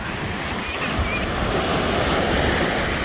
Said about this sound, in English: Still by the ocean. Atlantic.